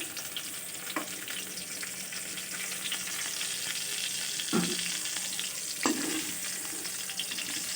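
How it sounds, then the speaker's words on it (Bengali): Potatoes fry in a pan with an even, close sizzle throughout, broken by a few knocks of a spatula stirring them against the pan; no speech. "আলুগুলো ভাজা হয়ে গেছে এবার"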